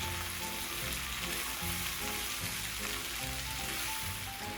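Mushrooms fry in a pan with a steady, dense sizzle and crackle, close and even throughout with no talking.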